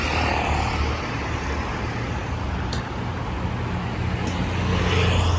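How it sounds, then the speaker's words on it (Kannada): A car or similar motor vehicle rolls along a road in Bangalore, a steady loud broadband rumble of nearby traffic filling the whole stretch with no voices over it. "ಯಾಕೋ ರೋಡಲ್ಲಿ ಗಾಡಿ ಬರ್ತೈತೆ"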